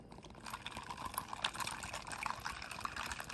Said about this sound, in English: So then I pour that in.